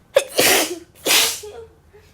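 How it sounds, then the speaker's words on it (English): A woman sneezes twice in quick succession, each a sharp, close burst with a breathy aftertail. "I'm gonna sneeze again."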